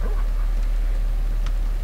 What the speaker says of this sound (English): Please let me be able to stroke the dog.